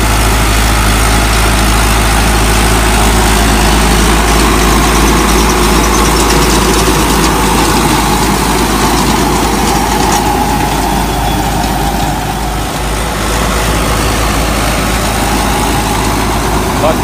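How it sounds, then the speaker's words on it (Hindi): A new Sonalika 60 Tiger tractor pulling a Raja 7 ft super seeder while sowing wheat into straw-covered field, a loud continuous diesel engine drone with steady low rumble and machinery noise, close and unbroken. "सोनालिका 60 टाइगर नवा ट्रैक्टर आ, बिल्कुल ये राजे वालों का सुपर सीडर आ।"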